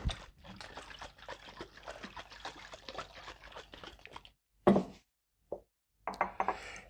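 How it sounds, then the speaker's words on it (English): A cachaça cocktail is shaken hard in a shaker, giving a fast, even rattle of ice and liquid for about four seconds, then a few separate knocks and clatters as the shaking stops. "I'm going to shake it up. Making a mess."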